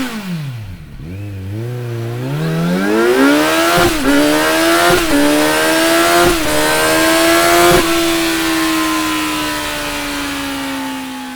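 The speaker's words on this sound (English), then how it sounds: "Let's hear how the Z's inline-4 engine sounds with the Akrapovic exhaust installed." A Kawasaki Z900 inline-4 fitted with an Akrapovic exhaust is blipped up from idle and rises through a series of loud, sharp revs with gear-like steps before holding a high, steady whine, with no talk.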